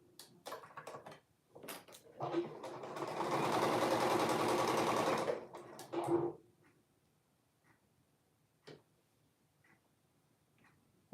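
A sewing machine stitching a garment in one close burst of a few seconds, framed by scattered clicks and handling taps before and after.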